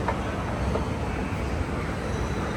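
A short Otis NCE escalator at the Marriott Marquis hums with a steady, even mechanical drone, moderately close, with no talking over it.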